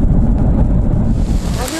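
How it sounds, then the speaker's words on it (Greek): Strong wind gusts roar across the microphone in a continuous low buffeting rumble during a raging wildfire, loud and steady with no voices. "Όσο πάει και ο άνεμος δυναμώνει πιο πολύ και η φωτιά δυναμώνει."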